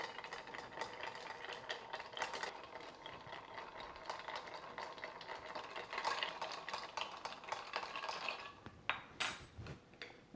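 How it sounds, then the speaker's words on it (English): Ice rattles and clinks steadily against a mixing glass as a spoon stirs a Bushmills Black Bush and coffee liqueur cocktail, a continuous close jangle lasting several seconds with no voices. "And give it a stir."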